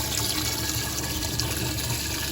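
Water from a hose pours steadily into a compactor at a campground, a constant, broadband rushing splash with no pauses or voices.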